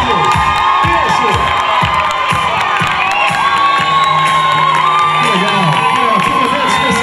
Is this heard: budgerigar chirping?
no